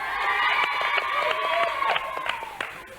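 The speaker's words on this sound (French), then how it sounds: "Et on l'applaudit." Studio audience applause and cheering on a 1990 French children's TV show, celebrating a young contest winner, with crowd noise and claps under a tonal sound that drifts across the clip.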